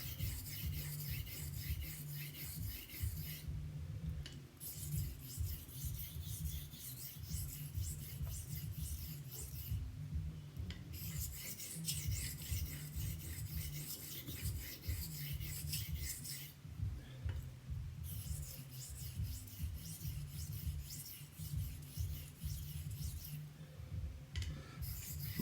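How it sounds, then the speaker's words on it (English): A straight razor blade is stroked flat on a sharpening stone with moderate pressure, giving a steady, faint rasping rub in long repeated passes with short pauses between strokes. "Moderate pressure, keeping the blade flat on the stone, stabilizing it."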